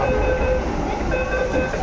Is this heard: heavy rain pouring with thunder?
no